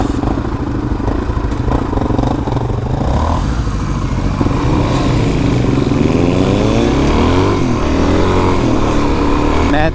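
Honda XR250R enduro motorcycle engine runs loud and near, a continuous throbbing idle that rises into revving with climbing pitch sweeps in the second half.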